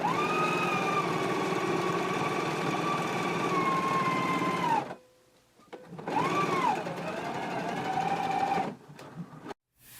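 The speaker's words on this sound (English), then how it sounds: "we can go ahead and stitch all the way around at a 3/8 of an inch seam allowance" A sewing machine runs in two steady bursts stitching a 3/8-inch seam around a shirt neckband, its motor hum close and continuous with a brief pause between runs and a short stop near the end.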